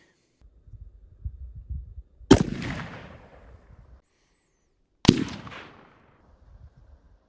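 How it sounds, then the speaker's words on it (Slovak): Two suppressed shots from an AR-15 Anderson rifle fitted with an ASE Ultra suppressor and a homemade muzzle brake, each a sharp loud crack with a short decaying tail, spaced about three seconds apart over faint low background noise. "Teraz si vypočujeme Andersona, na ktorom bol tlmič ASE Ultra, úsťová brzda mojej výroby"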